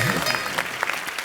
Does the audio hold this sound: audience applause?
yes